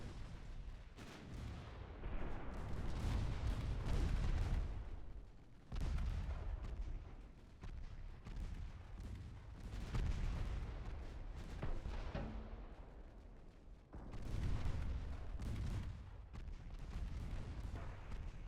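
Continuous heavy naval gunfire from warships in the Ultimate Admiral Dreadnoughts game, the Japanese Empire fleet, with rolling booms and repeated blasts that swell and dip in dense waves throughout.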